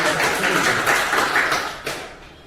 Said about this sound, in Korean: 그래도 박수 한번 쳐주세요